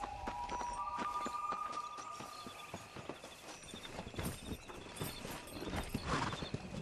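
Horse hooves clip-clop steadily in rhythm as a rider travels along in Red Dead Redemption, with an occasional whinny and music and game ambience running beneath.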